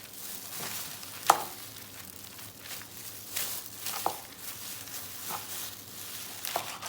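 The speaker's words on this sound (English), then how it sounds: "And then now I'm just going to chop them in bite-sized pieces." A knife chops raw chicken breast into bite-sized pieces on a cutting board, a few sharp, separate cuts spaced a second or two apart, close and fairly quiet against faint kitchen background.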